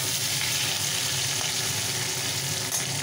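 Panch phoron and green chilies tempering in hot oil for a puishak ghyat made with fish head, giving a continuous loud sizzle and crackle close by, steady throughout with no talking.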